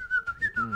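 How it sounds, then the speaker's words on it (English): A short, clear melodic whistle by a person indoors, a few quick rising and falling notes over under a second, close and alone. "Or whistling as you walk in."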